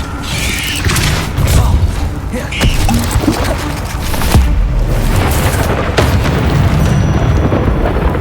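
A Bombarda blast spell from Hogwarts Legacy bursts amid constant heavy combat noise, dense rumbling booms and crackling impacts layered loudly throughout, with a few sharp hits standing out.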